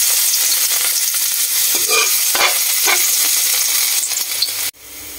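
Garlic sautés in a hot pan, giving a loud, bright sizzle with scraping stirring strokes, steady and close, until it cuts off abruptly near the end.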